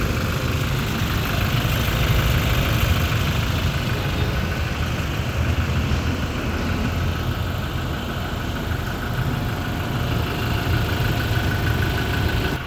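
A Toyota Innova 2.8 diesel engine idles steadily and smoothly, a constant low rumble with no revving, heard up close and without any talking.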